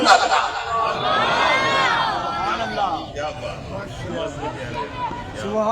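A crowd at a religious gathering in Sheikhupura raises a loud shout of slogans, swelling then fading into a murmur of voices and babble.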